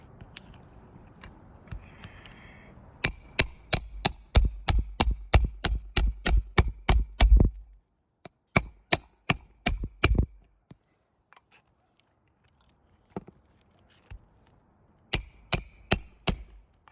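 A hammer driving nails into a worn asphalt-shingle roof during a repair, sharp metallic strikes in fast rapid bursts, then pauses and a few more blows, close and loud.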